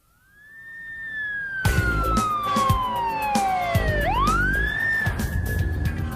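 A police car siren wails close by, its pitch sliding down then sweeping back up in a long continuous tone, joined by a loud rumble of engine and road noise partway through.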